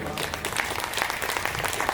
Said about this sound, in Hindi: 7-8 लोगों ने ताली बजाई है